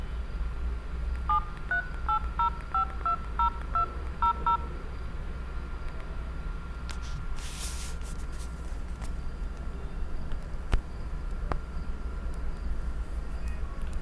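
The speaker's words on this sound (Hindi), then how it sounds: "कीपैड मोबाइल के द्वारा मैं अभी फ़ोन लगा के दिखाता हूँ" A keypad mobile phone dialing a number, with a quick run of about a dozen short beeping tones in an even rhythm, followed by quiet hum and faint clicks.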